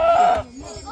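A single goat bleats loudly and close up in a short call, among goats in a Solukhumbu village that have just been neutered.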